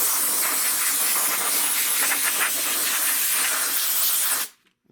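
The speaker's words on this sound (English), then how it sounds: "with the old trusty spray gun" A paint spray gun sprays rally rims with a steady, loud hiss that holds evenly for several seconds before cutting off sharply into near silence.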